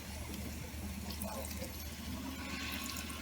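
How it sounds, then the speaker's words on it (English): Water poured into a pot of steaming cornmeal on the stove, a steady, dense splashing and hissing that runs unbroken throughout, close and fairly loud. "Just to let it steam, add some water."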